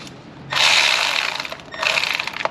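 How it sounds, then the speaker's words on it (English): A ratcheting wrench works bolts on the valve cover of a Ford 2.0 liter engine, giving two bursts of rapid, close clicking separated by a short pause. "Got the good old Nobi ratcheting wrench."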